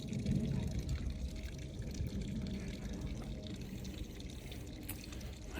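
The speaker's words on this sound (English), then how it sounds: "When you got water coming from the crawl space of your home behind a door" Water pours and gushes steadily out of a house crawl space behind a door, a constant close rushing wash with a faint trickling edge, fairly quiet throughout.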